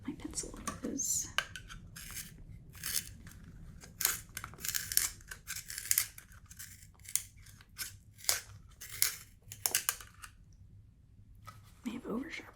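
A pencil is sharpened in a quiet indoor space, producing a series of crisp, close scraping and grinding bursts that start and stop irregularly, with soft talk heard between them.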